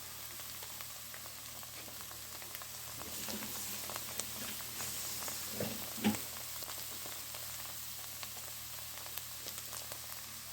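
Curry leaves, cumin and finely chopped vegetables frying in a pan give a steady, soft sizzle with light crackling and a few louder pops near the middle, continuous and close with no talking.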